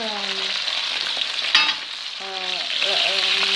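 A turkey leg browning in a pan sizzles and crackles up close, with stirring and scraping, one sharp clatter midway and a brief tonal whine in the background.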